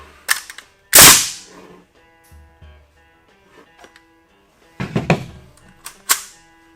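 A rebuilt Paslode F350 pneumatic framing nail gun fires several sharp, loud bangs, one powerful shot followed by quieter handling clicks and then a cluster of rapid shots, close by, with no talk.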